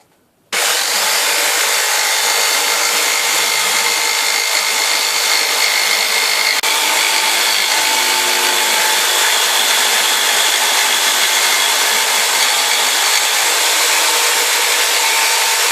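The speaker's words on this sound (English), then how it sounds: "So I'm going to cut half of it with an electric jigsaw" An electric jigsaw cuts a hole in a patio table piece, starting abruptly and then running as a loud, continuous, steady buzzing whine close by for the rest of the span, with no speech.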